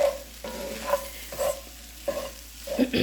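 Leftover rotisserie chicken fried rice is stirred and scraped in a hot pan, with a rhythmic series of spatula scrapes over a soft sizzle, close and clear, repeating about every half second.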